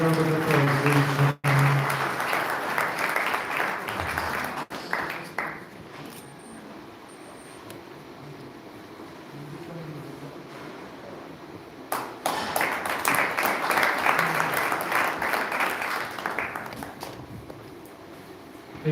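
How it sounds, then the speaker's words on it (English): An audience at a security and safety team launch event claps in a big round of applause as someone comes on stage to receive a donation for a widows fund. Dense clapping swells, drops into quieter murmuring and scattered sound, then returns strongly. "Please give a big round of applause."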